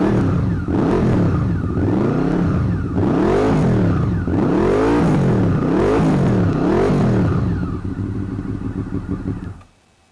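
Yamaha 600 Fazer motorcycle engine revving repeatedly, each rise and fall in pitch arriving in a steady series of loud, close, sweeping bursts before the sound drops away at the end.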